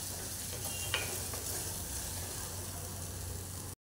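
Grated tomato paste sautés in a pan for a Konkani-style egg curry, giving a steady, close sizzle and hiss with a single light utensil clink partway through. No one talks.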